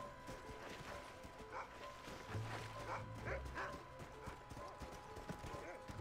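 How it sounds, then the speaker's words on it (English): A dog barks in short bursts over steady horse hoofbeats clopping, with Red Dead Redemption game sound running throughout. "Stop barking!"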